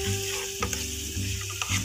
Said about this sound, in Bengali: এবার ভালো করে সব একটু ভাজা ভাজা মতো করব।